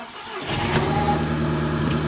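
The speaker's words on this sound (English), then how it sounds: "start her up" An Audi TT bought cheaply from a salvage auction, with an engine management light on and a misfire, cranks and starts up close by, then settles into a steady, slightly uneven idle.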